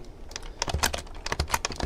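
Rapid typing of code on a computer keyboard, with irregular bursts of close, crisp key clicks and no speech.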